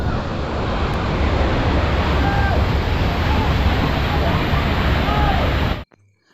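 Soochipara Waterfalls in Wayanad roaring as a steady, dense wash of rushing water, loud and continuous for about six seconds before cutting off abruptly.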